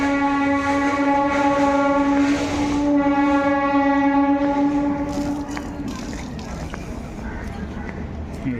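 A Delhi Metro train sounds a long horn at Supreme Court metro station, held for several seconds, then fades into a steady rumble of passing carriages and street noise.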